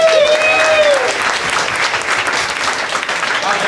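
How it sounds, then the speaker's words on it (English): A seated audience in a college class or workshop session bursts into loud, dense applause that holds steady for several seconds, with a few whistles near the start. "give yourself a round of applause"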